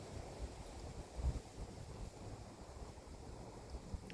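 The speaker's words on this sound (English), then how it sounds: "just wanted to capture the wind." Wind blowing hard outdoors, a low continuous rumble buffeting the microphone with a few stronger gusts, and no voices.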